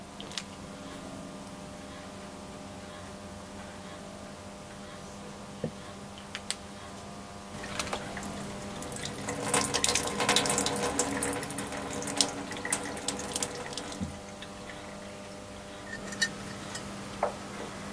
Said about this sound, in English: the jug is repeatedly filled with fresh water until all the debris has been poured off and the water is clear